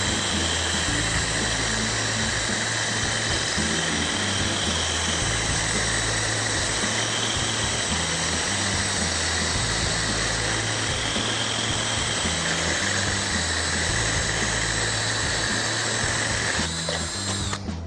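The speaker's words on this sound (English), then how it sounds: "So that's a hole into a glass vase. So it drills through glass." A drill bit bores through a glass vase in a loud, steady grind with a constant motor whine that runs unbroken for the full length and cuts off abruptly near the end.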